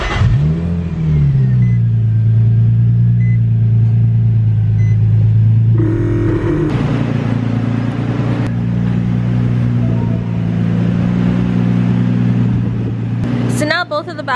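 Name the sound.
car engine revving, rear wheels spinning on jack stands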